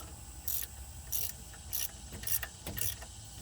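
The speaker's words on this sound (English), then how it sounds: "Can't fit my impact in there, so we'll go with it. The ratchet." A hand ratchet turns an alternator bolt loose on a RAM truck, giving five short, crisp clicking bursts at a steady pace, close up, with no talk.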